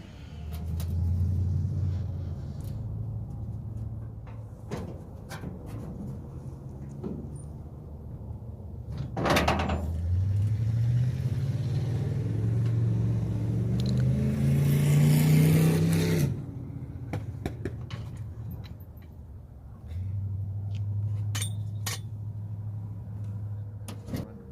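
A car engine starts and idles after a fuel line repair, a steady low rumble with a brief rise in revs midway, interrupted by sharp knocks and clunks of a door or panel nearby.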